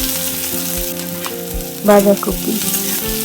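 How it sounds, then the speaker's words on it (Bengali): Panch phoron and chopped ginger sizzle vigorously in hot mustard oil, a dense, loud crackle throughout the short stretch, with a brief clatter partway through. "তেলটা গরম হলে দিয়ে দিলাম 1 চামচ পাঁচফোড়ন। তারপরে দিয়ে দিচ্ছি আদা কুচি।"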